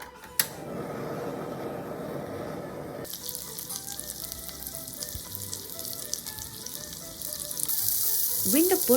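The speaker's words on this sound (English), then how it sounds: "Place the gyoza in the frying pan with the hold facing up." Gyoza pan-frying in heated oil in a frying pan give off a steady, close sizzle and crackle that shifts in tone partway through and grows louder near the end, with a sharp knock at the start.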